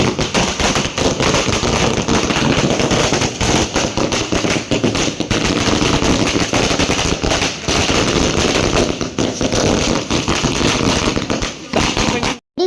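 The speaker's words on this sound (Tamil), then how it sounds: "அழகாக வெடி எடுத்து பற்ற வச்சேன்" A long string of firecrackers at a family engagement celebration bursts in a loud, rapid crackle of overlapping pops that barely lets up and cuts off abruptly at the end.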